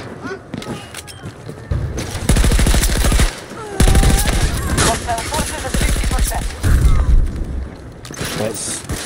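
Rapid bursts of auto pistol fire in a video game crackle out in several quick volleys, separated by short pauses, with a voice talking between and over the shots.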